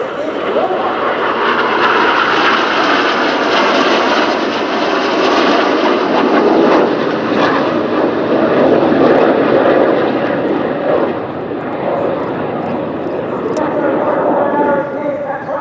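Red Arrows jets rolling in an airshow display at RIAT 2024 make a loud, sustained roar that swells and eases steadily, with a commentator speaking over the noise throughout.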